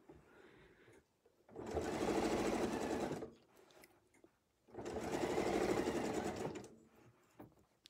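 Sewing machine stitching a quilt in two sustained bursts of about two seconds each, loud and close, separated by brief pauses with no talking.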